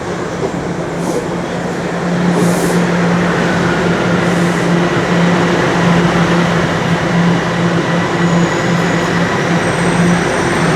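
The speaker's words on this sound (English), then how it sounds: "As the southbound line 1 train rolls in." A southbound Line 1 subway train rolls into a Toronto station, its steady loud rumble filling the platform with a sustained low hum and brief high squeals or hisses, alone without voices.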